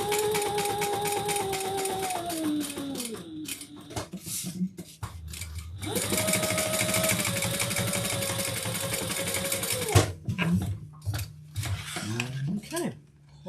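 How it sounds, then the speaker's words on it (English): A domestic sewing machine stitches across the bottom of a handmade fabric wallet, running in two long steady bursts with a brief pause and a short restart, close and loud, with mechanical clatter around the stops. "We're going to sew the bottom."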